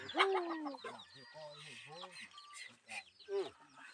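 Chickens cluck and squawk nearby in a quick, uneven series of calls, with a person's voice mixed in at times.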